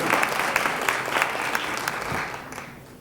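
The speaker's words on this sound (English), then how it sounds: "Another round of applause for our councilor, Brad Van." Audience applause for a city councilor at a Brooklyn State of the Borough address, dense sustained clapping from a large crowd that gradually tapers off toward the end.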